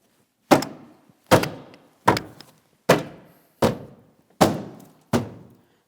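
A Toyota Matrix rear door panel is tapped into position: seven firm, evenly spaced thunks, close and sharp, each fading quickly into silence.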